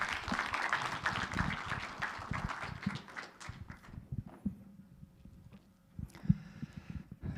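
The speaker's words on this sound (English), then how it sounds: "Please welcome him with a big round of applause." An audience claps for a speaker coming to the stage at a university's inaugural meeting, with applause at moderate level that fades out midway, followed by quieter scattered sounds and a few stray claps.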